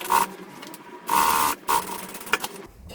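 A sewing machine topstitches a bag with a wide stitch in short bursts of whirring hum, close up, separated by brief pauses and small mechanical clicks.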